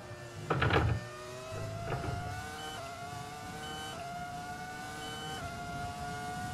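A Ferrari F2004 Formula 1 car in the F1 2020 racing game, its high-pitched V10 engine whining steadily and rising through gears, with a couple of brief bursts of tire or skid noise early on.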